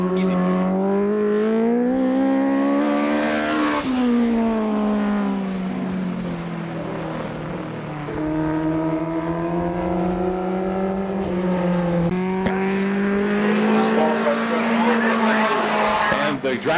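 3/4 midget race cars (USAC TQ midgets) lapping a track during a 1997 qualifying session, engines whining loud and continuous, pitch rising and falling as cars accelerate and slow through the turns.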